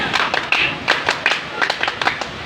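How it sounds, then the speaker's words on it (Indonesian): A classroom group performs a rhythmic spirit clap, sharp patterned bursts of hands in quick clusters, close and crisp, with faint voices in the background. "Tepuk semangat."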